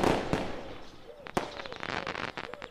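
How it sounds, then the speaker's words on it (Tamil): Firecrackers bang sharply several times, loud and close, with crackling pops and voices in the background between blasts. "பட்டாசு சத்தம் காது கிழியுது"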